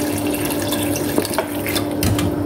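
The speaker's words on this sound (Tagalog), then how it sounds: "Lagyan pa natin ng konting tubig." Water is poured into a simmering pot of chicken curry with eggs, making a close splashing, bubbling liquid sound with a few louder plops, over a steady low hum.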